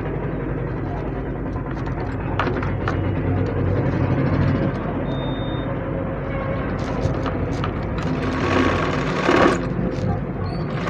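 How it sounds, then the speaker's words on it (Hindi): An electric sewing machine stitching a gents' design kurta, its steady mechanical whirr running loud and close throughout, with small bursts and shifts in speed. "तो हम यहाँ तक सिलाई मारेंगे।"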